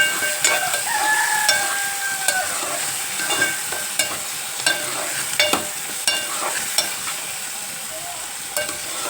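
Bitter gourd frying in oil with onion and cumin, a steady bright sizzle broken by repeated sharp spatula taps and scrapes against the pan, close and fairly loud, with a faint rooster crowing in the background.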